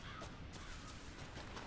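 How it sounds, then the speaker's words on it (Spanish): Birds in Resident Evil 7 caw faintly in a few scattered calls, like crows, over a constant dense ambient hiss and rumble. "Uf, pajaritos."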